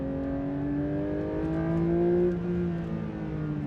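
A sports car engine revving to 9,000 RPM on a race track, with rising harmonic tones that climb, drop at a gear change, then build again, loud and sustained.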